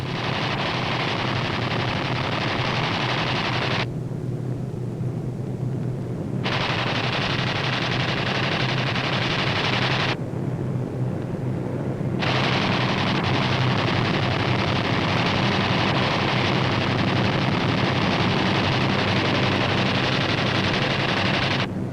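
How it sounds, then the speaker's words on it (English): B-25 bombers making low-level strafing runs with machine guns in 1944 wartime newsreel footage, a dense, loud, continuous roar of rapid gunfire broken by two brief drops. "These B-25s are carrying out low-level strafing operations against Jap surface vessels and a Jap-held"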